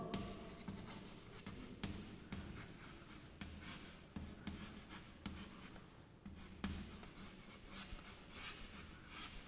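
A pen scratches steadily across paper in a classroom, a continuous close scribbling with short pauses between strokes, no voices over it.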